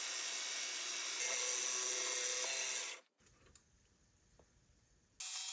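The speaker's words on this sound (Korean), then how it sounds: "여러 방수의 사포들로 면을 잡아줍니다." Loud, hissing whir of sandpaper in several grits against the outer face of a custom swingarm bearing part spinning on a lathe. It stops briefly to a quiet rattle, then the whine resumes.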